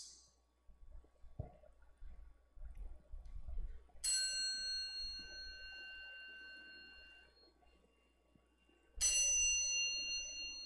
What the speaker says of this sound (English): at each sound of the gong, we shall render the three ceremonial vows to revere our ancestors.